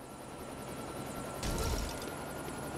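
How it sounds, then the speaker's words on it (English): Helicopter in the video game Lego City Undercover: a steady rotor and engine drone with a low whooshing surge partway through, moderately loud with no voices. "Now let's call the helicopter."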